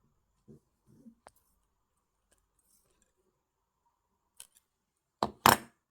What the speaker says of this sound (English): then we'll cut off the wire at both ends